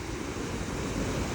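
Sea waves at the Dwarka shore, a steady broadband roar of surf close to the microphone, with wind buffeting and no voices.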